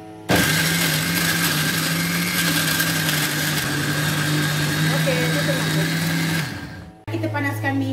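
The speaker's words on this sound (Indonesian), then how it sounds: "Cabai dengan bawang merah kita blend." An electric blender whirs loudly and steadily through red chilies and shallots with a little water for sambal, holding one even motor drone for about six seconds before it winds down and a voice follows.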